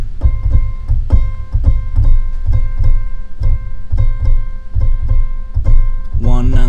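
Keyboard playing a basic unaccented rhythm, an even series of repeated chord stabs with steady bass notes over several bars, heard alone before a brighter flourish at the end.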